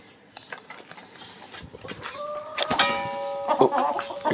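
A startled Alsace hen clucks and squawks, building from scattered faint sounds into several sharp, close, agitated calls in the second half.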